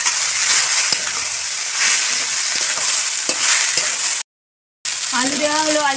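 Food frying in a pan with potatoes being stirred in, a loud continuous sizzle with scraping stirs, a brief dropout, then a voice speaking over the sizzle at the end.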